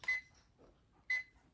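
A digital alarm clock plays its birdsong alarm, two short chirping bursts about a second apart, clear and close with quiet gaps between them.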